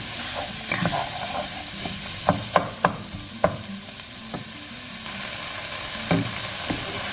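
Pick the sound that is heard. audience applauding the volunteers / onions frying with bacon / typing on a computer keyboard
onions frying with bacon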